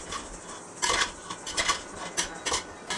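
A pot of egg biryani is uncovered and stirred with a metal spoon, giving a quiet run of scraping and clinking strikes against the pot in an irregular rhythm, close up with no talk.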